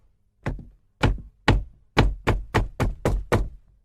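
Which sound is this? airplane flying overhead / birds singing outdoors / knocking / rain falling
knocking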